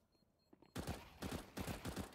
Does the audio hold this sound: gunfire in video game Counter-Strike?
yes